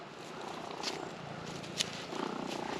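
A cat purrs softly and close by in a steady rumbling rhythm, with a couple of faint clicks.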